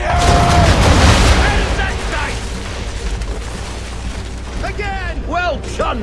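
Ship cannons fire in the video game Assassin's Creed III, a loud booming volley that dominates the opening and fades into a rumbling tail while a voice speaks over the later part.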